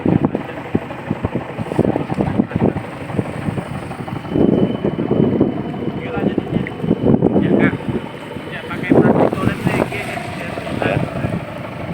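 A motorboat engine drones on open water among island crossings, with wind buffeting the microphone and people talking over the sustained rumble.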